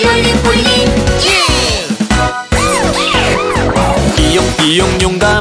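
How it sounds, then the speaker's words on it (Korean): A cartoon police car siren wails in rising and falling sweeps, set within a loud, bouncy children's song with music playing throughout. "경찰차 출동!"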